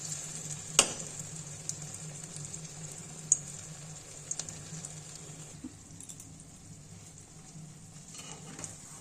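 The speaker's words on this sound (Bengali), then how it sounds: "এবার আলুর মুইঠাগুলো ভেজে নেব।" Potato muitha dumplings fry gently in hot oil, giving a continuous even sizzle with a steady hiss, punctuated by a few sharp clicks and taps of a utensil close by.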